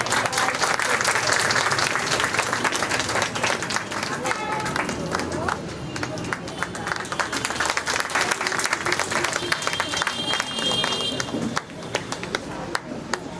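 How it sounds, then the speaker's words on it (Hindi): Sustained, loud applause from a large crowd at a school annual function, continuous dense clapping with a voice speaking over it. "तालियां लगातार बजती रहनी चाहिए।"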